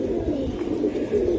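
Silver pigeons coo steadily at a pigeon sale, a low continuous burbling chorus from several birds close by, with no talk over it.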